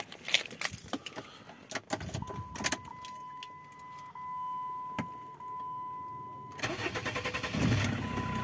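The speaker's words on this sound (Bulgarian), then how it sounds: "Ето, не пали чак толкова мудно." A 2002 Jeep Grand Cherokee WJ with the 2.7 CRD diesel starts: keys rattle first, then a long steady cranking whine, and the engine catches into a rough, rumbling diesel idle.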